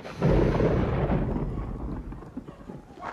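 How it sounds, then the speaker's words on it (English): Thunder in a family movie's stormy wilderness scene, a deep rolling rumble that swells quickly, then slowly fades over a few seconds, with a faint patter of rain beneath it. "Thunder, really?"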